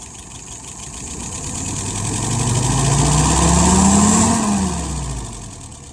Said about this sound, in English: That nice smooth acceleration means the metering rod is set correctly.